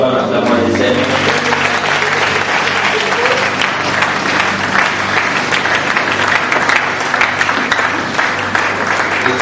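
A church congregation applauds loudly and continuously, a dense crowd clapping that fills the hall, with voices mixed in.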